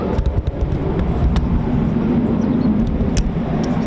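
Eurofighter Typhoon FGR4 jets climbing away from RAF Coningsby make a loud, continuous broadband roar that holds steady throughout, with a few faint sharp ticks from people nearby in the crowded car park.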